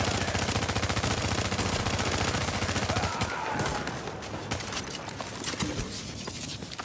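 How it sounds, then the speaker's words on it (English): Rapid gunfire from a shotgun in a video game, a dense burst of loud repeated blasts for about three seconds, then scattered shots and clatter fading under quieter game noise. "This shotgun sucks."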